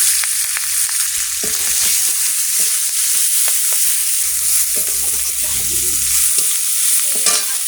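Whole black cumin, onion, garlic and chili fry in oil, giving a close, continuous sizzle broken by repeated stirring and scraping of a spatula against the pan, with no speech.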